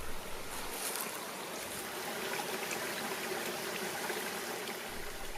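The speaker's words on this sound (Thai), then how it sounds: "แหล่งน้ำลำห้วยและทานน้ำใหญ่น้อยบนขุนเขา ไหลเรื่อยลงสู่แม่น้ำยม" Mountain stream water flowing steadily down a creek in Mae Yom National Park, Thailand, a continuous close rushing wash with no pauses and no voices.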